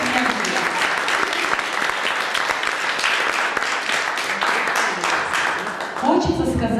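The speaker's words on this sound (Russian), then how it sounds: "Аплодисменты." A school graduation audience for an auxiliary boarding school in Minsk applauds loudly and steadily, dense clapping filling the hall for several seconds before a voice begins speaking near the end.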